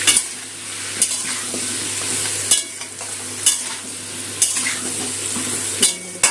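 Potatoes tossed with salt and turmeric frying in hot oil, a spatula scraping the pan in sharp strokes roughly every second over a continuous loud sizzle.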